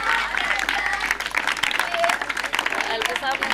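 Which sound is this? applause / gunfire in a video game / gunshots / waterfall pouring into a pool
applause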